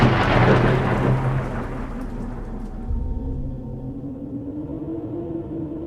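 Heavy rain pours steadily with a deep, rolling rumble underneath, loud and close, with no voices present.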